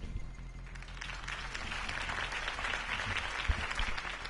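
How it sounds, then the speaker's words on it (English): Crowd applause after a Harvey Dent campaign speech in a Batman video game: sustained, fairly distant clapping from a large audience that swells slightly, with a faint thump partway through. "If only Mr. Wayne, my campaign's largest backer, could have heard that applause"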